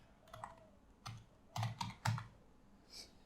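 A computer keyboard is typed on in short bursts of clicking keystrokes, close and fairly quiet, with uneven pauses between groups of keys and a soft final press, no voices.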